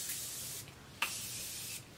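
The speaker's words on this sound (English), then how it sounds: "I'm going to go ahead and spray my face with the Morphe Continuous Setting Mist." Morphe Continuous Setting Mist sprayed onto a face: a long steady hissing mist lasting about a second, followed by a sharp click and a second long spray, ending with another click, close and fairly quiet.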